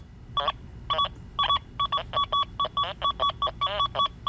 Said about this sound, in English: A lot of iron tone. Hear the iron buzz?